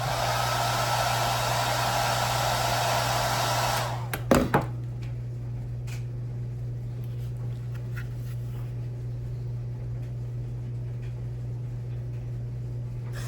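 A hair dryer heats texture tape on a Glock grip, blowing loud and steady for about four seconds before switching off with a couple of clicks. A low electrical hum and faint ticks remain afterward.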